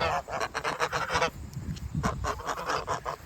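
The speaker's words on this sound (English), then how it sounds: "we're gonna let the geese out while we walk up the hill" Several geese honk loudly and repeatedly as they are let out of their fence on a garden property, a close chorus of overlapping calls with a short pause midway.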